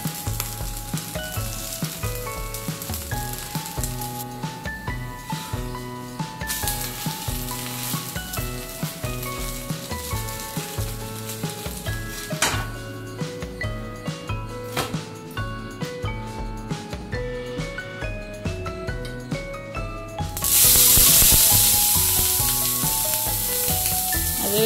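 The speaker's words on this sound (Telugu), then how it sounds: "అదేవిధంగా రెండో దోశ కూడా ప్రిపేర్ చేసుకుంటున్నాను." Dosa batter spreads on a hot pan with a steady sizzle under background music. The frying hiss swells into a louder, bright burst near the end.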